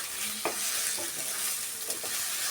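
Eggs fry in a pan for egg fried rice, making a constant loud sizzle close by. A couple of brief spatula scrapes and taps sound within it.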